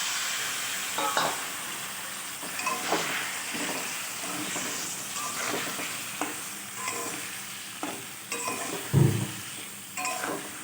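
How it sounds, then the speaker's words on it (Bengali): Spice paste of turmeric and chilli fries in oil with a splash of water, giving a continuous close sizzle broken by frequent scraping stirs and occasional knocks against the pot. "এবার একটু সামান্য জল দিয়ে মশলাটা আমি কষিয়ে নেব"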